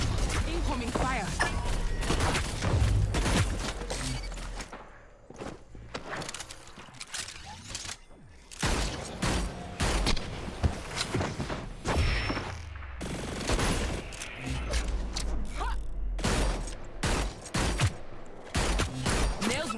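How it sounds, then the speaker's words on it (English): Bursts of gunfire rake through a Hyper Scape battle, dense rapid shots and mechanical clatter packed across most of the stretch, loud and close, with a player talking over parts of it. "Incoming fire."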